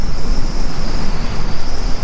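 Heavy beach wind buffeting the microphone in rough gusts, with a steady high whine running through the noise.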